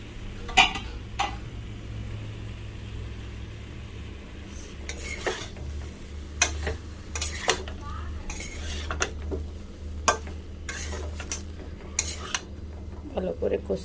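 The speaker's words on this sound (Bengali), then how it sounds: "এবার দিয়ে দেবো চিংড়ি ভাজা রাখা, এটাকে দিয়ে কষিয়ে নেব।" A spatula scrapes and clinks against a pan as fried prawns are stir-fried with spices and pointed gourd. Sharp metallic taps come at irregular intervals over a low, faint background hum.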